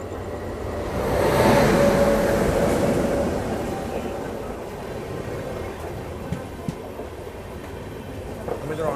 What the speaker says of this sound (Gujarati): સામેની બાજુ એકાદી ટ્રેન આવી રહી છે તમને બતાવું તેમનું.